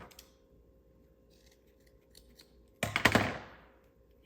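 Scissors snip once through a looped tassel string: a single crisp, close cut after a quiet stretch with faint handling noises.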